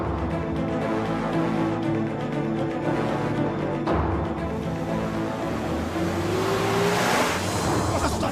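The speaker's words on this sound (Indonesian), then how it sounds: "Itu mobil Pak Suta kan?" Pak Suta's car pulling up, a steady engine note with a rising whine near the end, heard under a busy ambient background with faint voices.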